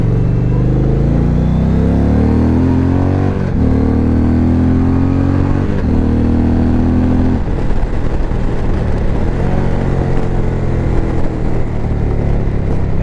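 An Indian Challenger Dark Horse 2020 motorcycle with a 122-horsepower engine is heard while riding, its loud, close rumbling engine climbing in pitch through repeated accelerations and gear changes, with no talking.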